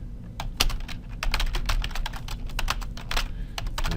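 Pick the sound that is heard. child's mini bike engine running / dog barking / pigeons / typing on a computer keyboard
typing on a computer keyboard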